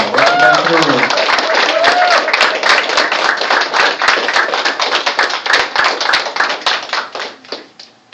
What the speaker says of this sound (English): If we could please give a nice round of applause for inductee Don Cogswell, right in the back of the room.